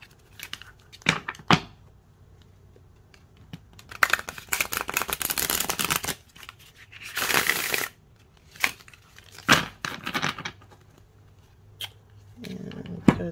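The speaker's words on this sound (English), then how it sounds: "They shuffle pretty good. I like the way they shuffle." Tarot cards from a new deck are shuffled by hand, giving bursts of riffling and rustling with loud flurries and short pauses between handling noises, close up.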